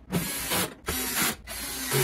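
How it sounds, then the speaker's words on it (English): Screws being tightened on a Whirlpool freezer drawer rack, heard as three close, steady mechanical whirring bursts with brief pauses between them. "And then let's tighten those screws."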